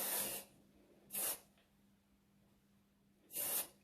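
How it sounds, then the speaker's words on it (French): Three short bursts of Authentic Beauty Concept flexible hairspray hiss out of a small spray can, each a bright, breathy puff lasting under half a second, separated by quiet pauses. "On prend le petit spray Authentic Beauty Concept."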